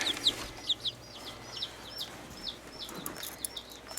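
Young chicks cluck and peep in short bursts at close range, with a few sharper chirps scattered over a quiet background.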